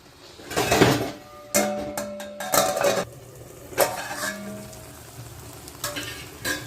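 Spicy Andhra-style chicken fry cooks in a pan with a soft sizzle, broken by repeated bursts of stirring and clinks of a utensil against metal.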